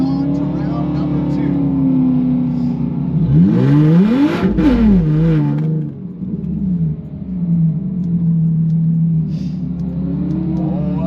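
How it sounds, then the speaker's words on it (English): Roaring engine from a drag race car doing a big burnout at a high-altitude strip, swelling to a loud revving peak and then settling into a steady rumble, with an announcer talking over it throughout. "Oh, a big burnout for the guy who run the fastest time today."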